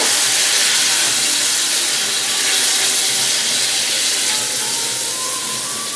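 Sabudana in a pan sizzling loudly with a half spoon of salt and a little turmeric, a dense, steady frying hiss close to the mic that barely changes over six seconds, with no talking.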